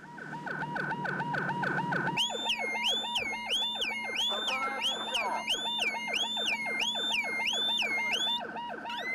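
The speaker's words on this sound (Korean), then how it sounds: "결국 밤바다의 고요를 깨우는 사이렌이 울린다." A patrol boat's siren wails at night at sea on an illegal-fishing enforcement vessel, a continuous cycling electronic yelp that shifts to a faster, higher warble partway through, loud and steady with no talk.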